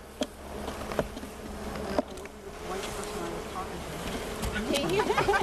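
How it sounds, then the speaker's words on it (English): Bees buzzing inside a hollow tree in a yard, a dense steady hum with a few sharp knocks and sounds of handling, growing slightly louder toward the end; people talk nearby at times. "That's a bunch of bees."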